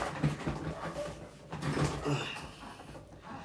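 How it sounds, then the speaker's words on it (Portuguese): A dog whimpers and gives soft, short barks a few times nearby, with a person speaking faintly around it. "O cachorro está latindo."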